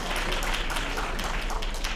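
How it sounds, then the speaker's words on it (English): An audience applauds steadily for about two seconds, a dense even wash of clapping with a low hum beneath it. "Let's give them some applause right now, too."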